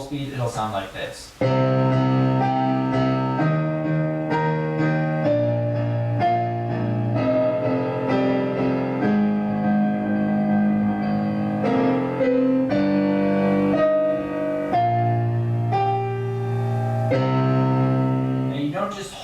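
A solo piano plays a dark, driving piece at full tempo, with dense repeated chords and octave bass notes ringing out loud and close without pause, and no voice over it.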